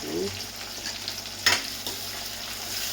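Onions and tomatoes frying in a pan, a steady close sizzle with a brief clatter of stirring in the middle.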